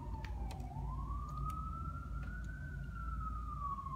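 An emergency vehicle siren wails outdoors a couple of blocks away near a hospital, one long rising and falling tone that stays steady and moderately faint over a low rumbling background.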